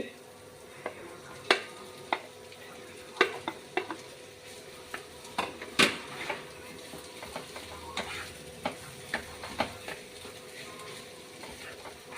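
Potatoes frying over a low flame in a pan, with a soft steady sizzle punctuated by repeated sharp clinks and scrapes of a spatula stirring against the metal.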